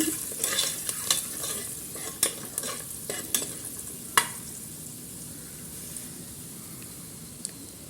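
Turmeric powder and sprouts sautéing in a pan for a sprouts masala curry, a soft steady sizzle under irregular scraping stirs that come thick at first, then grow sparse and quiet.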